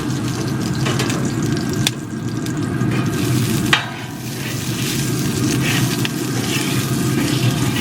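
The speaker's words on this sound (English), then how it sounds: "I'm going to put a little more bacon grease on here and then we'll get to cooking the Smashburgers." Bacon grease sizzles loudly and continuously on a hot flat-top griddle close by, with a couple of brief sharp taps or scrapes breaking the steady frying hiss.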